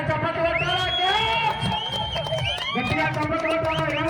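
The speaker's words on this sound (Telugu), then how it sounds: "గట్టిగా చప్పట్లు కొట్టాలా" Festival crowd at a temple fair celebration for Yogi Sri Narasimha Swamy in Chinnapalle, Kadapa, cheering and shouting loudly and steadily over music, with voices whooping throughout.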